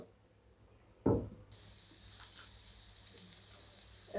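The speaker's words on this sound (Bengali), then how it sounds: "এবার আমি সবগুলোকে ভেজে নেব।" Pui shak (Malabar spinach) pakoras drop into hot soybean oil, giving a sudden burst of sizzle that settles into a steady, soft crackle of frying.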